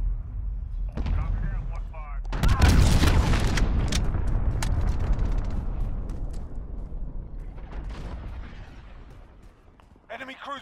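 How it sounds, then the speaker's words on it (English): Enemy cruise missile blast in the Call of Duty: Modern Warfare video game, a loud rumbling boom that swells and rolls on for several seconds amid game sound effects and radio chatter, then fades. "Enemy cruise missile."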